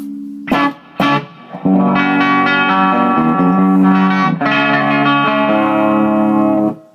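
Electric guitar through the clean channel of a Hughes & Kettner Tubemeister 36 head plays a few picked notes, then sustained strummed chords ring out with a clean, slightly reverberant tone, loud and up close.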